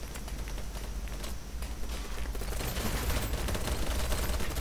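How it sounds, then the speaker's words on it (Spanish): A grenade goes off in a chaotic online shooter game, amid dense continuous gunfire and rumbling blasts that build into a loud, sustained roar of combat. "Acaba de caer una granada"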